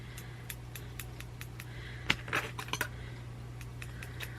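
Embroidery scissors snip thread in a quick run of small, crisp clicks close to the mic, with a few louder cuts in the middle, over a steady low hum in a quiet room.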